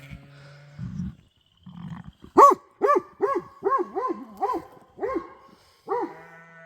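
A dog on a sheep farm during lambing barks in a run of about eight loud, evenly spaced barks close by, after a few low grunts, with no talking.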